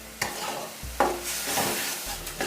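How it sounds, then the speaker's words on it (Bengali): Cabbage and red lentils sautéing in a pan with a little sugar, a steady broadband sizzle with a few scraping stirs of a spoon against the pan, close and continuous. "তিন চার মিনিট কষিয়ে নেব।"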